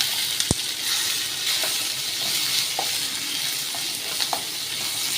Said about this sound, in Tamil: ரெண்டு வெங்காயம் இப்படி கட் பண்ணி வச்சுக்கோங்க இதை வதக்கி எடுத்துக்கலாம்